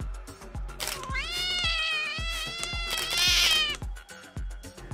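A cat meows loudly and repeatedly in drawn-out, wavering cries that swell into a caterwaul, close by, over a steady thumping rhythm in the background.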